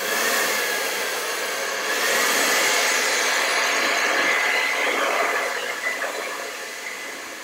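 A hair dryer blows on a painting to dry the paint of the underlying flowers in a Van Gogh-style vase of red poppies, a loud continuous whooshing drone that shifts slightly in pitch as it moves, alone without talk.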